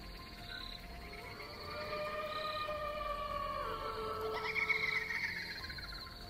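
A ghost sound effect plays from a phone at night in a village: eerie wavering tones and siren-like wails that slide up and down over a steady hiss, moderately loud and continuous, with no talking.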